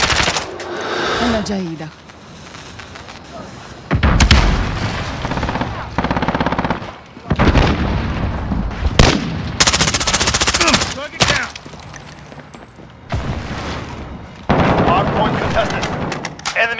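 Loud bursts of automatic gunfire in a Modern Warfare Hardpoint match, coming in heavy rattling stretches broken by brief pauses, with a sharp blast midway and a short spoken callout over the action.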